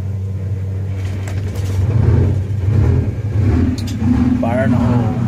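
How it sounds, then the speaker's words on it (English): A 1963 GM PD4106 bus engine with an air leak from a dash lever starts up and settles into a loud, steady low idle rumble that swells slightly as it warms, with a brief hiss of air near the end. "We'll have to start the bus. Let it warm up."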